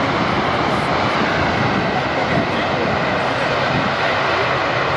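A C-5 Galaxy landing at an airshow with spoilers up and thrust reversers engaged, a loud, dense, continuous engine roar and rush of air that holds steady throughout.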